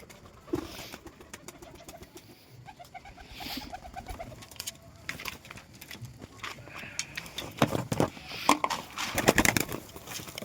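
Pigeons coo in soft, repeated rumbling phrases as they are fed grain, with wing flutters and scuffling that grow busier and louder toward the end.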